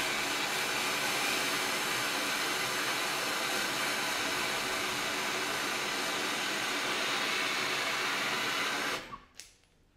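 A gas brazing torch roars at full flame while brazing aluminium with low-temperature rods. The loud, steady broadband rush holds for about nine seconds, then cuts off abruptly into near silence.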